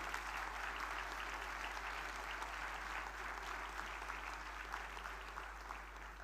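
Sustained applause from a conference audience at the International Conference of Drug Regulatory Authorities, a steady dense clapping that fills the whole stretch at moderate level, with a low electrical hum underneath.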